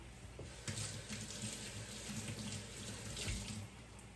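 Running tap water splashing into a sink while scallion is rinsed under it, a steady close stream with soft bursts of splatter as the stalks move through the flow.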